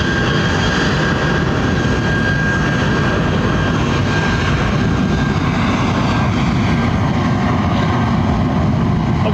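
Lufthansa jet airliner in 100th anniversary livery at London Heathrow, its engines a loud, steady broadband roar that fills the whole stretch without letup, close by.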